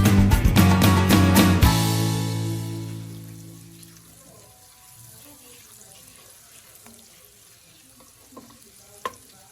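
Onions and other ingredients hitting hot oil for a spaghetti jollof base: a loud opening clatter and sizzle that settles into a quieter, steady frying hiss with an occasional faint tap.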